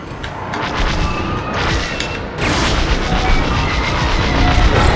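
Starfighter cannons fire steadily at an enemy ship in Star Wars: Squadrons, a dense roar of rapid blasts with heavy engine rumble, loud and continuous and growing stronger partway through.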